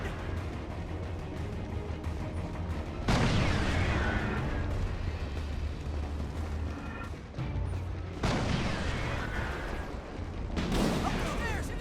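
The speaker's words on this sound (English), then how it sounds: "Watch out for rockets. They do a lot of damage." Rocket explosions in the Resistance 3 video game, two or three heavy booming blasts a few seconds apart, each a sudden loud burst that decays into rumble over continuous low battle noise.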